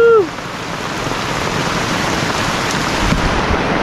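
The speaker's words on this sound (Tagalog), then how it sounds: "Ang lakas ng ulan!" Heavy rain pouring down in a steady, loud, dense hiss that holds without letup, opening with a brief excited voice call.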